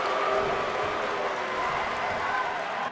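Wrestling arena crowd at a No Holds Barred NXT match roaring and cheering in a steady, dense wash of noise with scattered clapping, loud and continuous throughout.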